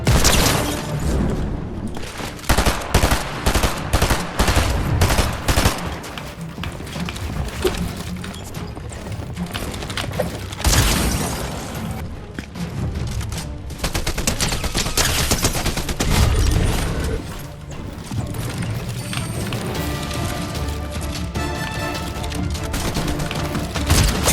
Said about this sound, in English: I started off with a nasty deagle shot